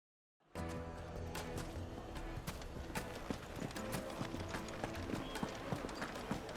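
Hooves of a horse pulling a hired wagon clip-clop steadily in the video game Final Fantasy XVI, a brisk, even rhythm of clear knocks over a low rolling rumble, starting abruptly after a moment of silence.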